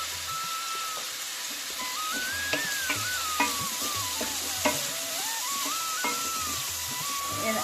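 Onions sizzle and fry steadily in a pan with salt for a coastal Indian mango prawn curry, a constant close hiss broken by the scrape and clink of a stirring spoon, with a faint whistling tone drifting through.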